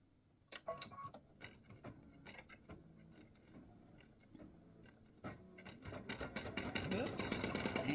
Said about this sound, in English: So color stop number 2 is going to stitch the zigzaggy lines.